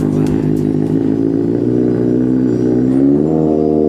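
Loud and close, a 2025 Kawasaki ZX6R motorcycle engine runs with a steady, throaty rumble, its pitch rising slightly as it revs toward the end.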